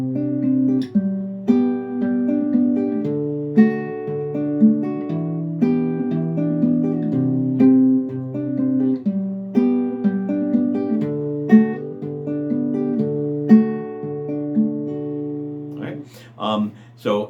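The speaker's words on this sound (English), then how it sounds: "P, M, I, A. So with respect to that sequence, it would sound like this." Guitar fingerpicked in a repeating P-M-I-A pattern, thumb then middle, index and ring fingers, giving a steady flow of plucked notes at moderate volume; a voice starts talking briefly at the very end.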